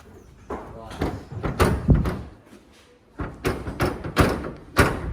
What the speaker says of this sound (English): can you push in the throttle, the bonnet cable as we're closing the bonnet?